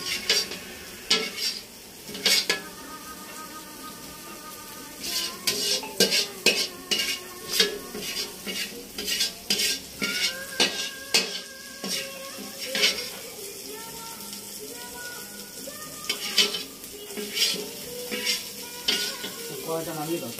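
Chicken in a pot is stirred repeatedly with a metal utensil, producing rhythmic scrapes and clanks against the pot over a soft sizzle, loud and close, with brief talk now and then.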